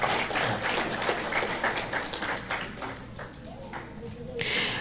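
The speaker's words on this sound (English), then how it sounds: "Let's give a round of applause for our students who have advanced to this round." Audience at a primary school cooperatives quiz applauds the students advancing to the final round, a thick burst of clapping that gradually thins over several seconds before a final flurry.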